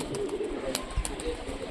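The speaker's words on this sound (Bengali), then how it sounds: "এই যে কবুতরটি অনেক বাজি" A Bazi pigeon, a Rajshahi high-flying tumbler, coos faintly and steadily for a moment, with a few light clicks and rustles and no talking.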